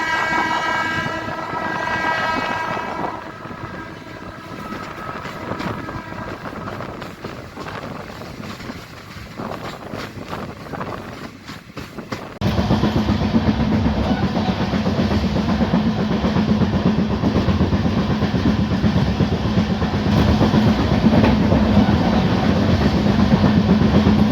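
The 11411 Parli–Sangli DEMU Express pulls away from Latur, a horn sounding early over clattering wheels before the motor roar swells loud and steady as the train gathers speed, heard from on board.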